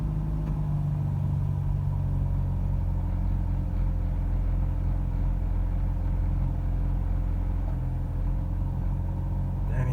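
A 2005 Mazda RX8 with a stalling fault idles in a steady low rumble that stays even throughout, with no talking.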